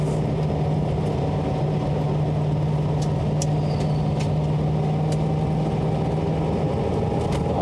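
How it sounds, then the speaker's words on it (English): Tractor driving along an Isle of Man road, a steady low engine drone heard from inside a moving car, mid-level and constant, with faint rattles and clicks over the road rumble. "It's a tractor."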